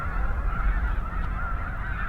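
A dense flock of snow geese honking continuously, a loud overlapping chorus of calls.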